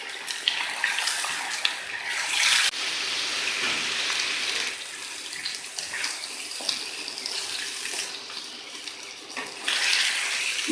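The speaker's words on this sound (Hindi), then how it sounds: "चिकन मैं डाल दिता है, हम मैं इन्ना फ्राई करूँगी कि इसका रंग चेंज हो जाए।" Chicken pieces fry in a karahi with a steady, hissing sizzle that runs throughout, rising in brief louder bursts, close and without talk.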